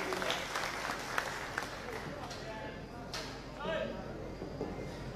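A crowd at a Bharatiya Janata Party workers' rally in Khanapur taluka bursts into applause, a dense, continuous clapping that sits under a voice and lasts the whole stretch without fading.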